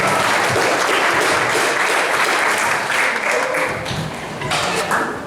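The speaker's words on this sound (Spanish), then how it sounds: "Fuerte el aplauso para ustedes y fuerte el aplauso para mí" An audience applauds at a school literature night of horror and suspense stories, loud, dense clapping that fills the room and holds steady before easing slightly toward the end, with some voices mixed in.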